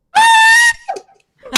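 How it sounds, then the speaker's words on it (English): An online audience unmuted to cheer for a performing duo: one loud, sustained high scream opens the moment, followed by a short vocal yelp and a brief sharp burst of noise. "Call your screams out now"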